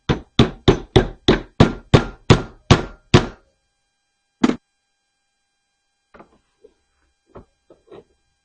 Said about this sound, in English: we're going to get the plastic hammer